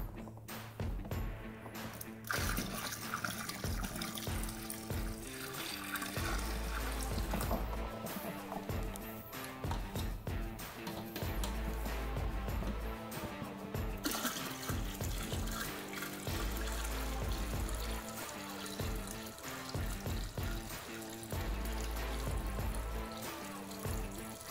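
Water pours steadily into the kettle of a Brewzilla all-in-one brewing system on brew day, a continuous splashing flow lasting the whole stretch with no speech.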